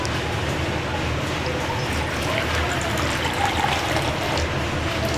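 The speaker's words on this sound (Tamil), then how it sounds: "இன்னும் ரெண்டு கப்பு நம்ம தண்ணி ஊற்றிக்கலாம்" Water pours steadily from a cup into a wheat flour batter for Tirunelveli-style halwa, a continuous close splashing trickle that stays even throughout.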